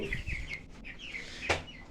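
Chickens on a poultry farm with fresh litter, soft clucks and chirps close by over a low farmyard background, with a brief louder squawk near the end.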